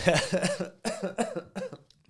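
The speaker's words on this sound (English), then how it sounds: "You coughing up like that, bro." A person coughs hard several times in quick succession, close up, with brief pauses between the bursts.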